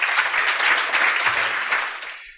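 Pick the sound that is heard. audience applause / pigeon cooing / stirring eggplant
audience applause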